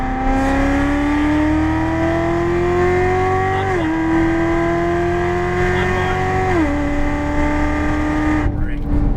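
Corvette C7 engine on a race track, loud and close, rising steadily in pitch under acceleration with two brief dips at shifts before easing off at the end.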